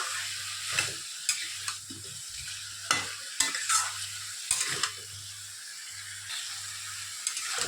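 Cucumber curry fries in a pan under a soft sizzle while a spatula stirs it in quick, evenly spaced scraping strokes, with occasional sharper clicks against the metal, close and alone.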